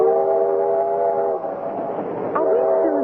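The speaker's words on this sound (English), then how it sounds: "I wish this old train would go twice as fast as now." An old steam train rolls along in a steady low rumble, with a sustained whistle tone throughout that bends downward near the end, a dense close sound effect for a radio drama.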